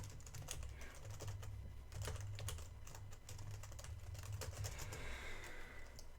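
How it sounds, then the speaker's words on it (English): Steady keyboard typing, a run of quick clicking keystrokes with brief pauses, close by over a low hum. "So now if I go back to here and I keep typing"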